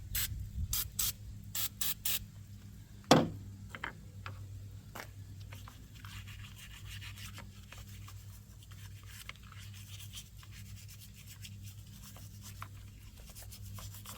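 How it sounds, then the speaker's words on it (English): Battery cleaner sprayed from an aerosol can onto corroded car battery terminals in a garage: several short sharp hissing bursts at the start, then a sharp clank, followed by quieter faint rubbing over a low steady hum. "Got here some battery cleaner and acid detector."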